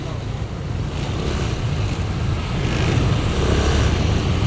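A motorboat out on open water near Dipolog City: a steady, loud low engine drone blended with rushing water and wind buffeting the microphone, continuous throughout.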